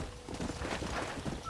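Horse hooves clop in a steady walking rhythm during a ride in Red Dead Redemption, soft and fairly close over a low ambient background.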